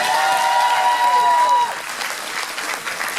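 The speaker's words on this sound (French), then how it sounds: "vous pouvez l'applaudir" An audience claps loudly and steadily at a cosplay parade in Dijon, a dense wash of applause that eases partway through. A voice briefly rises over the start, and the crowd keeps clapping on its own after that.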